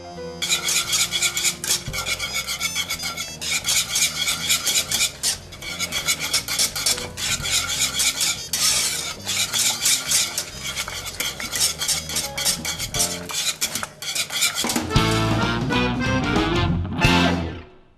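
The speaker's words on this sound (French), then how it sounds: "On remue tout ça et on rajoute les blancs qu'on vient de réaliser juste avant" A utensil stirs and folds whipped egg whites into a yam gratin mixture in a bowl, with repeated scraping and clinking strokes, loud and close, and no talking.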